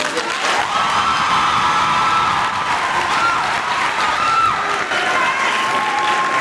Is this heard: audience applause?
yes